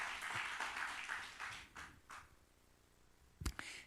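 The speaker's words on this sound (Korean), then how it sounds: "우리 영광의 박수 한번 돌립니다" A church congregation claps together in a warm burst that gradually thins out and fades, followed by a quiet pause and then a single sharp knock or thud near the end.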